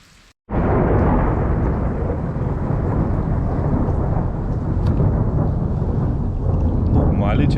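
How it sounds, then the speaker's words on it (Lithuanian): Heavy thunder during a storm rolls in suddenly and rumbles loudly and continuously, with rain-like hiss blended throughout. "Normaliai čia griaudi."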